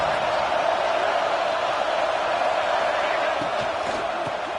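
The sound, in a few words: stadium crowd cheering during college football game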